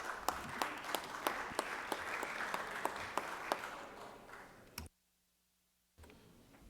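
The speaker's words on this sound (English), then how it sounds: "Give yourself a round of applause." Applause inside a legislative chamber, a dense wash of clapping with a few sharp, distinct claps standing out, cutting off abruptly into near silence before faint room sound resumes.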